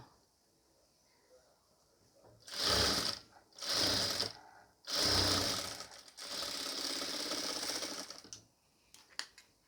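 Electric sewing machine stitching the neck piece of a nighty, heard in four loud bursts of fast, steady needle chatter separated by short pauses, the last run longest, with a few faint clicks at the end and no talk.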